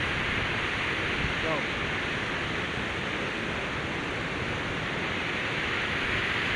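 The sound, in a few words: flooded river water flowing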